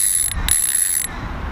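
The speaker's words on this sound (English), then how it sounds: "Let's listen to a clicker here. Pretty damn loud, huh?" An AVET SXJ Raptor casting reel's clicker rattles loudly in a fast continuous ratcheting buzz, pausing briefly, with no talk over it.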